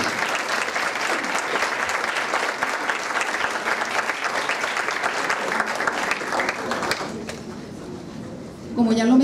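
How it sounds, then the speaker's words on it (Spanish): Sustained audience applause for maestro Carlos Gama at a music school anniversary concert, a dense steady clapping that fades near the end as a voice starts speaking. "Aplauso para el maestro Carlos Gama."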